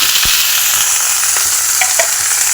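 Dry red chillies with kalonji seeds, salt and turmeric fry in a pan, giving a loud, dense, continuous sizzle with a few spoon knocks and pops, close up and without speech.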